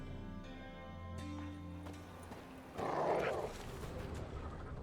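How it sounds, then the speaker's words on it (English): Large dogs bark in the video game The Witcher 3, a brief burst of close, loud barking in the middle, following sustained tonal game music with no talk. "Those are some big ass dogs you got."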